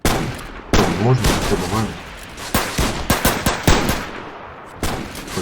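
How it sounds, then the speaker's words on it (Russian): Rifle gunfire rings out in the Roblox World War I trench shooter, with a burst of sharp, loud shots mid-clip and more cracks near the end, under someone talking. "Вот так вот берем и расстреливаем болвана."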